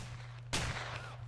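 A single sharp gunshot in the ArmA 3 video game rings out over a low steady hum and fades into a short tail, alone and fairly faint.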